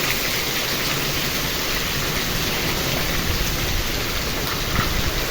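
Heavy summer rain pours during a storm, with running water. It makes a dense, steady roar at constant loudness with no voices.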